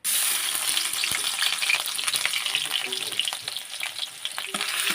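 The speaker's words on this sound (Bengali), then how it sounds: "পেঁয়াজটা আমি 2 মিনিটের মতন ভেজে নেব।" Onion paste sizzling in hot oil in a wok, a loud, dense crackle that holds steady throughout with occasional stirring scrapes.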